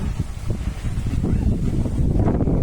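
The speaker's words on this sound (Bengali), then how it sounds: "ঘূর্ণিঝড়ের মতন বাতাসের দিনে কেমন লাগছে বলো মাম্মি?" Strong gusting wind on a rainy, stormy day outdoors, roaring steadily and loudly against the microphone throughout with a low rumbling buffet.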